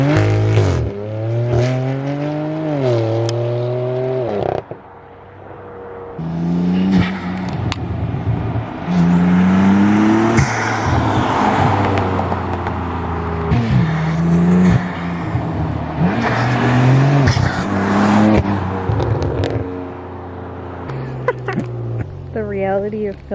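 A BMW F80 M3 with loud front-mount intakes revs hard through repeated close flybys, its pitch climbing and falling with each pass. A voice talks between runs.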